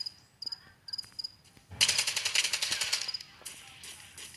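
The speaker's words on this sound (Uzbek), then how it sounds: "Qatta otishma o'lyapti balla." Rapid bursts of gunfire in a zombie apocalypse drama, a loud sustained volley after quieter scattered shots, crackling and echoing with no one speaking.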